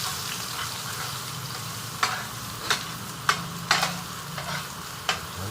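Garlic sizzles steadily in a hot frying pan while a spatula stirs it, with several sharp scraping clicks against the pan over the continuous frying hiss.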